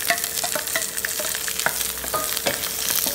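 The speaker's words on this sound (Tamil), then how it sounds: "வெங்காயம் நல்லா பொன்னரமாக வர்ற வரைக்கும் கொஞ்சம் வறுத்துக்குங்க." Chopped onions sizzle hard in hot oil, a dense close crackle with spoon scrapes and stirring clatter running through it, steady and fairly loud with no voices.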